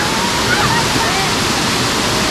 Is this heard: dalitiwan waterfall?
yes